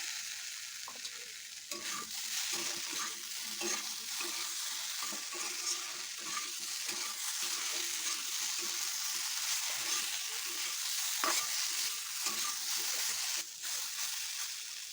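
Fried soybean pieces added to a pan for a healthy broccoli and soybean recipe: a steady hiss of frying oil with spatula scrapes and stirring clatter, close and continuous throughout.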